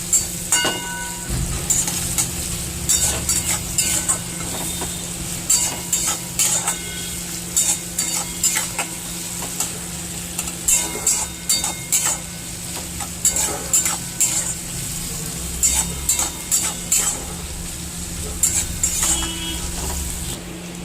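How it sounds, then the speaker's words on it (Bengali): Onions fry in oil in a pan and are stirred continuously for a home-style rohu fish curry. A steady sizzle runs under rhythmic scraping and clicking from the stirring utensil, with no talking. "পেঁয়াজগুলোকে আগে ভালো করে ভেজে নেব"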